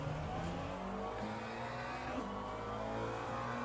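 A race car engine in the iRacing sim game drones continuously at moderate level, its pitch shifting through gear changes with faint tyre squeal under it.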